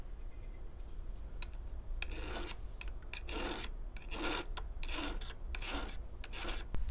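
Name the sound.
sharpening a chainsaw chain with a round file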